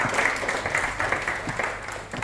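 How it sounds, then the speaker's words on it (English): Audience at an inter-school debate competition applauding for a judge, a dense wash of clapping from many hands, steady and moderately loud throughout. "Huge round of applause for ma'am."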